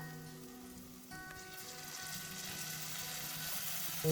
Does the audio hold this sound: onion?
yes